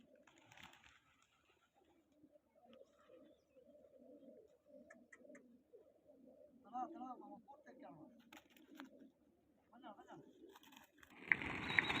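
Soft, low pigeon coos repeat throughout, quiet and somewhat distant, with a burst of rustling or fluttering near the end.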